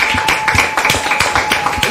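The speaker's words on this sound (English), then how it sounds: "Please put your hands together for KKDs" Rapid group clapping with sharp, evenly spaced hand claps, loud and close, continuing steadily without talk over it.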